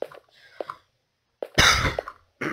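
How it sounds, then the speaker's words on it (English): A single harsh cough bursts out close to the microphone, preceded and followed by brief quiet vocal sounds. "Bad cough."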